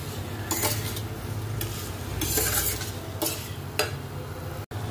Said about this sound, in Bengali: তো এই আলু সয়াবিনের তরকারি করছি, একটু ঝোল ঝোল করে।